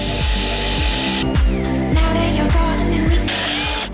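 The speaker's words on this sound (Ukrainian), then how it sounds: "ріже вона по сучках, дерево не серед" Grosser GCS 851 cordless saw cutting through knotty wood, loud and close, with a steady motor whine that dips in a repeating rhythm under load about every half second.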